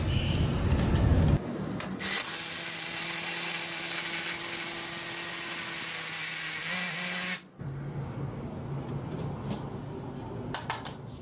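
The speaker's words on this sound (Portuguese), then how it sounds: "Vou furar para poder botar bucho parafuso" A drill bores into a plaster ceiling for screw anchors, a steady whirring grind lasting several seconds before stopping abruptly, followed by quieter handling noises.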